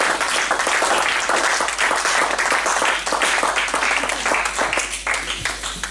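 A church congregation applauding together at a prayer meeting, a loud, dense and sustained clapping from a large nearby crowd that keeps going throughout and eases slightly toward the end.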